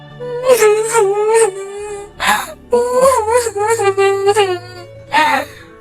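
A high, cartoonish bird voice whimpers and wails in rising and falling sobs, broken by short pauses and a low background hum.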